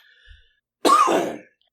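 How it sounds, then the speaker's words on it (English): One sharp, harsh cough bursts out close up after a quiet moment, then silence. "Now I can't stop coughing."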